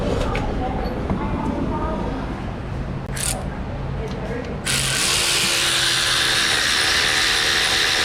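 Wrench ratcheting bolts on the rear axle assembly of a wrecked 2019 Ram 1500 pickup, a close rapid clicking that turns into a louder continuous whirring rasp partway through, with talk over it.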